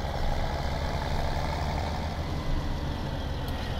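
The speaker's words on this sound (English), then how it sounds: "Move the tractor to, move the tractor over the pit." A tractor engine idles and rumbles steadily while it moves over an unloading pit in Farming Simulator 2017, a constant low, heavy drone at moderate level with no talk.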